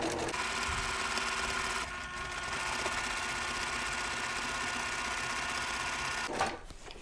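A sewing machine stitches a quilt block seam a needle's width from a drawn line, running steadily and close up with a fast mechanical whir, briefly slowing near two seconds and stopping with a clunk toward the end.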